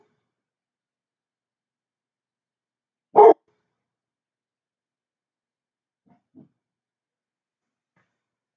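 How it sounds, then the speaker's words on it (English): Dogs barking somewhere in the house, one sharp loud bark mid-clip and a faint short one later, surrounded by silence. "Sorry about the dogs."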